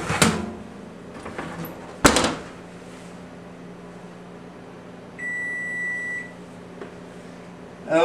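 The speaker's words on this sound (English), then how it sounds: "Okay, there's our timer." An oven timer in a home kitchen sounds a steady electronic beep lasting about a second, close by, after a couple of sharp knocks and clatter from the oven door and cookware, with no talking.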